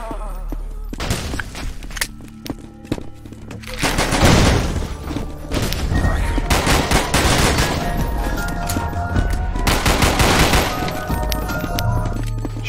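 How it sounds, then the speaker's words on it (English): Gunfire in the zombie shooter game Zombie Panic! Source as players shoot barrels, with dense rapid bursts of shots and booms that grow more intense after the first few seconds and continue loud throughout. "Shoot all the barrels."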